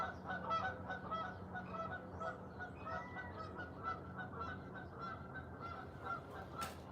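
Geese honk continuously in a noisy flock outdoors, a faint and distant chorus of overlapping calls over a low rumble.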